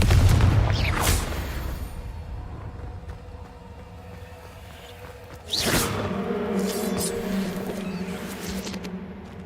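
Confringo fire spell blasts in the game Hogwarts Legacy, set in a cave: a booming burst near the start and another sharp blast midway, each with a whooshing tail over rumbling low ambience.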